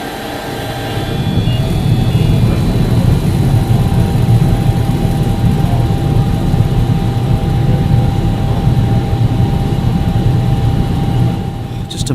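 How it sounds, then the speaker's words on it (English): Brewery burner whirring steadily as it starts up, a loud continuous low rumble with a faint higher whine that swells in within the first second and holds for about ten seconds. "The whirring of it starting up."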